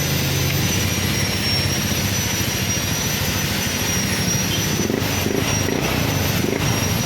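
A Yamaha Aerox 155 scooter engine idles after a connecting rod repair, giving a steady, loud, close mechanical whir and rattle that holds constant throughout with no speech.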